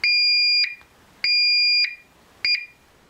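Loud, piercing electronic alarm tones from a Honeywell Galaxy security alarm panel sound in three bursts, each a steady high beep, the last one shorter, with brief quiet gaps between.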